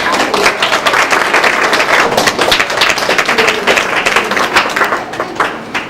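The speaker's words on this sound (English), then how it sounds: "Let's have a round of applause for these people" A school awards audience applauds continuously with dense, loud clapping that holds steady for the whole stretch, and a few faint voices are mixed in.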